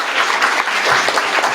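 Loud, dense applause from a startup pitch competition audience, a continuous wash of many hands clapping close and steady throughout.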